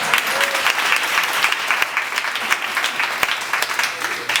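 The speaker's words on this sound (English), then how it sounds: "clap for those women." Steady crowd applause at a 19th Amendment celebration in Columbia, dense clapping that stays fairly even across about four seconds with scattered sharper claps and murmuring voices underneath.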